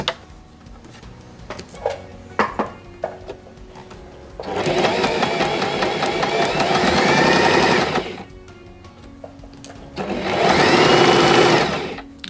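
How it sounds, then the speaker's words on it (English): A sewing machine stitches down folded-over scrunchie fabric in two loud, steady runs of rapid mechanical clatter, separated by a quieter gap with faint handling clicks. "you're just going to sew that down"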